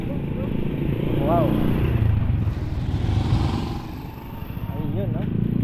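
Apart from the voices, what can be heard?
tricycles (motorcycle taxis) driving by at a public market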